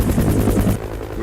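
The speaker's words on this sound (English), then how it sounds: "We take out about 4 or 5 passengers at a time with the helicopter and put them in the remote sites." Helicopter ferrying passengers to remote mountain sites, its rotor giving a loud, close, rhythmic chop that thins out toward the end.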